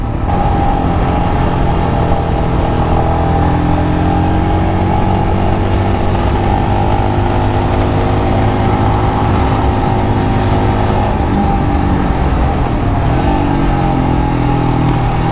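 A Royal Enfield Scram motorcycle rides along with a steady, loud mid-pitched engine drone that holds throughout, shifting pitch slightly near the end as it changes speed.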